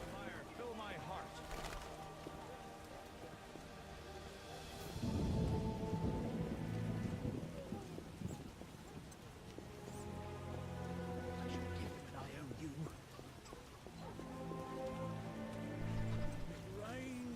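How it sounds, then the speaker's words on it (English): Steady rain falls in The Witcher, with a low thunder roll around the middle, mostly beneath in-game dialogue and music. "It rains and it pours."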